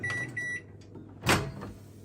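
A 900 watt microwave oven is opened early after cooking a doner kebab: a couple of short electronic beeps sound first, then a single sharp clack of the door releasing, up close in a quiet kitchen.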